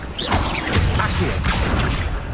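Spell-casting effects from Hogwarts Legacy during a prison fight in Azkaban, a dense run of whooshing swishes and impact crashes that continues steadily for the whole stretch.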